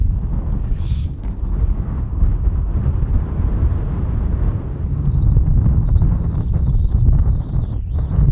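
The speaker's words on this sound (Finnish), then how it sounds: "On kyllä helkkarimoinen tuuli." Strong wind roars steadily across the microphone in low buffeting gusts in the Kaldoaivi wilderness, with a faint high whine in the background.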